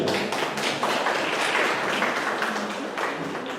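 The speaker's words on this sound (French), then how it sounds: "un grand bravo, on peut les applaudir" An audience at a Colour Vogue 2020 event by Mauvilac applauds the organising team, a moderate, continuous patter of clapping from many hands without any voices.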